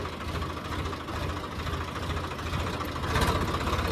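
A tractor engine runs steadily at close range, a loud, rough mechanical rumble with knocking texture that builds slightly toward the end, with no talk.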